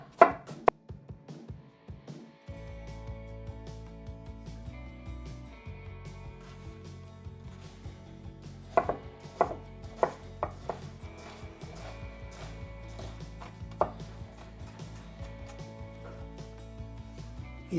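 A knife chops onion on a board with steady, close rhythmic taps, pausing at the start before settling into repeated cuts, for a Hungarian pork stew.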